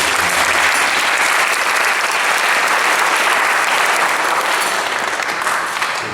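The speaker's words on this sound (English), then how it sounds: "give a round of applause for him." Sustained applause from a large crowd at a kirtan in a chapel, dense and steady clapping that fills the whole stretch without letting up, with no speech over it.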